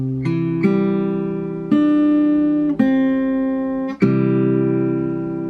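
An acoustic guitar plays a fingerpicked pattern for the song Wala Kang Katulad: five or six distinct plucked notes and chord tones, each ringing on into the next at a slow, even pace.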